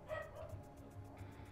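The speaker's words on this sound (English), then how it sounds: "The dogs are telling me to crouch too" Dogs bark and yip repeatedly in the stealth video game Hitman (2016), a steady run of fairly loud woofs with whimpering touches, heard without talk.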